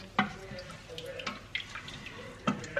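Water is added to a cooking pot, heard as a few close, soft splashes and drips spread over a couple of seconds, fairly quiet and intermittent.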